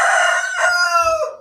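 A rooster crows once, loud and close, with a bright, drawn-out call that wavers and trails off. Faint low thumps sit underneath.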